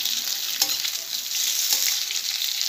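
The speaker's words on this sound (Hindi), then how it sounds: "सौटे कर लेते हैं इसको, कढ़ाई में डाल देते हैं" Curry leaves sautéing in a kadhai make a steady, close hiss of frying oil, with faint stirring scrapes now and then, continuous and without talk.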